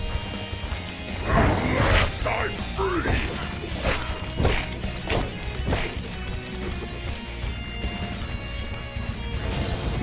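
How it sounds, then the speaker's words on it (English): Explosions in the online battle game Smite, during a Fenrir versus Vulcan duel: a series of sharp crashing bursts and thuds clustered over several seconds amid game effects and background sound. "Random explosion."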